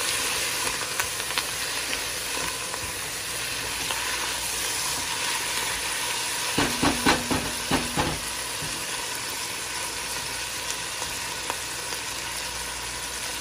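Chicken karahi with coriander and ginger sizzles steadily in a pan, a constant frying hiss with a short burst of clattery stirring partway through.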